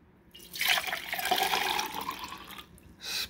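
Water is poured from a full coffee mug back into another, giving a short gurgling splash that swells, tapers off, and ends with a brief final trickle, close and fairly quiet.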